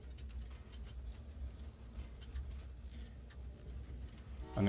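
Passenger train rolling along its track in the puzzle game Train Valley 2, on an Antarctica level, a steady low rumbling drone that carries evenly throughout and swells a little louder at the very end.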